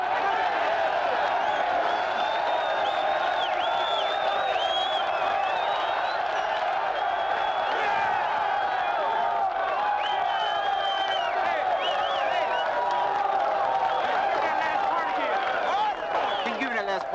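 A crowd gathered at Attica prison cheers, yells and claps in a sustained loud swell, with shouted voices rising over the din throughout.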